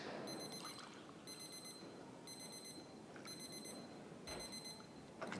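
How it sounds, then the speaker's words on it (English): A coffee brewing timer for an Eva Solo pour rings out in five repeated bursts of high electronic beeps over a steady room-noise background, with no speech. "So that's my timer for the Eva Solos we poured."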